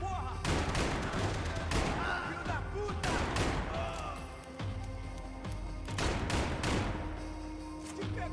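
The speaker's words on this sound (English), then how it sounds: "Oh, my shooting is terrible today." Gunfire in Max Payne 3: a dense, loud barrage of shots and heavy impacts that keeps going without a break for the whole stretch.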